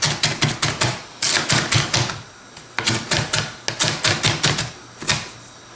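Large kitchen knife chopping finely on a board for harira, a rapid run of crisp close taps in quick bursts with brief pauses between them.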